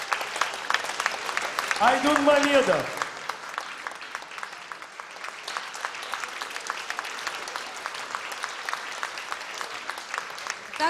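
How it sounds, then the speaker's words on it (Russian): An audience at a music festival in Yaroslavl applauds with steady, dense clapping that carries on throughout, while a voice announces over it near the start. "Аплодируйте, дорогие друзья."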